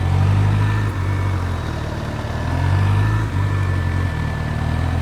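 A sports motorcycle engine turning slowly through tight low-speed maneuvers makes a steady, close, idle-like rumble. Its deep tone shifts slightly as the throttle changes, and no voices are heard.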